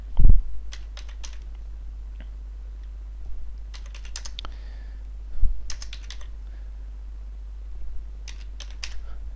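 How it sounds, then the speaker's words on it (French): A computer keyboard is typed on by hand while entering a product code into a spreadsheet cash register, giving clusters of quick, close key clicks separated by short pauses. "Je vais taper à la main directement."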